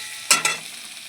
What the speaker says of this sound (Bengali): ভেজে রাখা বেগুনটা দিয়ে দিলাম, দিয়ে একটু কষিয়ে নেব মশলার সাথে